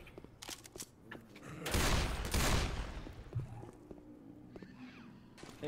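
Gunfire in the zombie shooter Left 4 Dead 2, a dense burst of rapid shots swelling loud for about a second and a half amid scattered clicks and game noise, with players talking around it.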